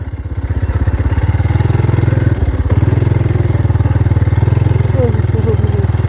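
A motorcycle engine revs with the throttle opened, a loud, close, pulsing engine note that dips briefly midway then continues steadily for several seconds.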